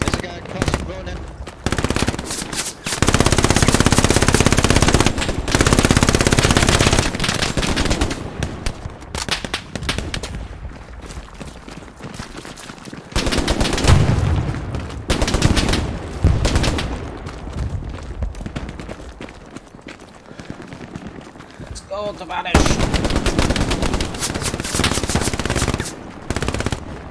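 An enemy machine gun fires in Hell Let Loose, a Stalingrad battle with long, loud, rattling bursts that recur throughout, mixed with other gunshots while players talk over the radio.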